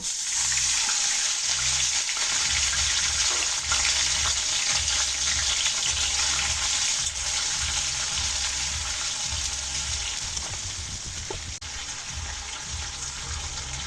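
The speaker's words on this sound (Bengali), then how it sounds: "এখন সামান্য পরিমাণ পানি দিয়ে দেব" Water goes into a pan of frying onions and garam masala for a country-chicken curry, making a steady rushing, hissing wash with a faint low rhythmic bubbling beneath.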